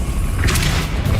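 A Depulso spell cast in the Hogwarts Legacy video game gives a single booming, whooshing burst that swells and fades over about a second against steady game ambience.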